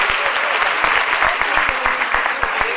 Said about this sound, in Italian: Direi un applauso.